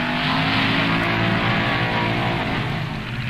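Drag racing cars from 1965 NHRA national events roar loudly and continuously as they accelerate hard, a dense, sustained engine blare with no pauses or voices.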